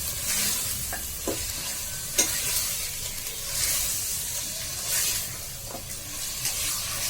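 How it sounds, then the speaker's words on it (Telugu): Mutton curry sizzling in a pan while being stirred, a steady soft fry marked by the occasional sharp scrape or knock of the spoon. "బాగా కలుపుకోవాలి."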